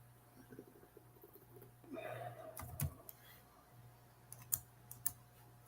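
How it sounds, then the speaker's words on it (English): Faint, scattered keystrokes tap on a computer keyboard in a quiet room during a Senate hearing, with a few sharper clicks in the second half. "Now I was actually fucking typing."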